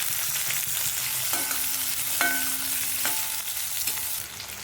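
Green chillies fry in hot oil with cumin and ginger for a mint coconut chutney, giving a bright continuous hiss and crackle that stays even, then eases slightly at the end, with faint tones in the background.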